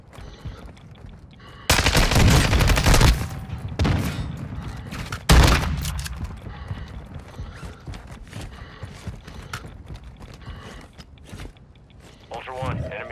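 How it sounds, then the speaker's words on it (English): Bursts of automatic gunfire crack through a Call of Duty DMZ raid, with two loud close volleys early and scattered shots and mechanical clatter after, under occasional game radio speech. "You are taking effective fire."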